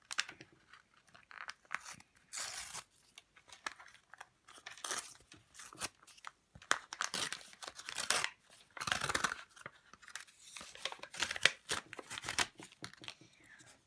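A paper surprise ball being torn open and unwrapped to reveal stickers, giving faint, irregular crinkling and ripping bursts close up, with quiet talk in places.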